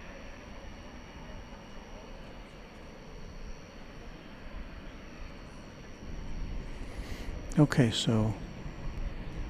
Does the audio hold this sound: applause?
no